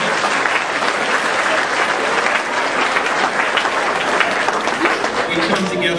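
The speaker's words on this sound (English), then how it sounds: "Let's give all these debaters a big round of applause" An audience at a county debate night gives the debaters a big, sustained round of applause, loud and dense throughout, with some crowd noise mixed in.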